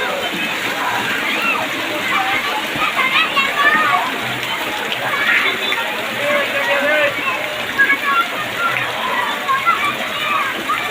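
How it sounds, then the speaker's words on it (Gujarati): Heavy rain pours steadily outdoors in a neighbourhood in Patan, a dense continuous hiss and splatter with water sloshing as children bathe and play in it, and voices sound faintly beneath. "વરસાદ આવ્યો ખૂબ બધો."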